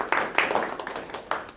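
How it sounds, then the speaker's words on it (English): Scattered applause from a small seminar audience for a participant, a handful of distinct, fairly faint claps spaced irregularly rather than a full ovation. "Give him a big round of applause."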